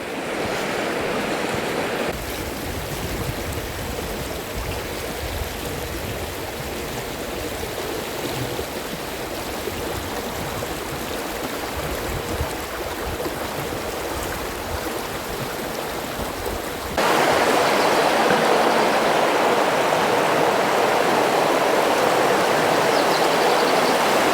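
A swollen river in Malhamdale in the Yorkshire Dales rushes after rain, a constant broadband roar of flowing water close by, with a sudden jump in loudness and brightness partway through and wind buffeting the microphone.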